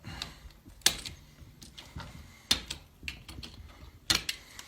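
Wire is snipped with cutters in a few sharp, close metallic clicks spaced about a second or more apart, with small handling rattles in between.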